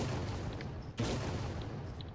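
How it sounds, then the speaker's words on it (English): A big, heavy cannon fires in a video game, one loud booming blast near the middle over dense, continuous rumbling battle noise. "if I look overhead and then I fire the cannon"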